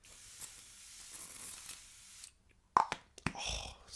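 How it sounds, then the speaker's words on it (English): A spray bottle mists water onto a face in a few sharp, close hissing spritzes after a quiet stretch. "I'm also going to go for a little spray, okay? Spray in the face"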